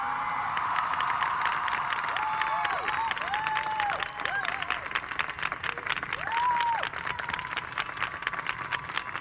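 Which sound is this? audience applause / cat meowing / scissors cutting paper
audience applause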